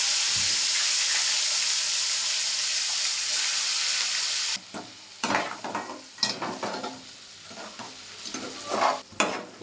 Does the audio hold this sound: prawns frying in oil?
yes